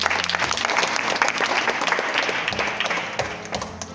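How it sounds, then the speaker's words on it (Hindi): Loud, dense applause from a crowd at a school science fair, sustained clapping throughout that tapers slightly toward the end, close and full, with no talk over it. "देखिए कि जोरदार ताली बजा दी इन बच्चों के प्रोजेक्ट के लिए"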